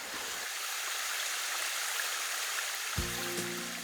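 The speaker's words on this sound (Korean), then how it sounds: "이 계곡의 그 물 흐르는 소리는 그 청각만으로도 기온을 떨어뜨려주는 효과가 있는 것 같습니다" Water rushes steadily down a mountain valley stream, a continuous close hiss of flowing water with a low murmur coming in near the end.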